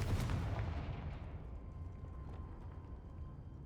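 A Confringo fire blast spell cast in the Hogwarts Legacy video game, a loud booming burst at the start that rumbles and decays through a long fading tail.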